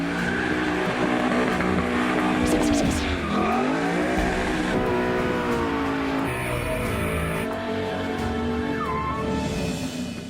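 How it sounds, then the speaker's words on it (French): Ford Mustang Boss 302 doing a tire-smoking burnout, its V8 engine roaring loud and close while the rear tires squeal continuously, engine pitch rising and dipping across the run. "C'est la première chose qu'on fait avec une Mustang, un énorme burn."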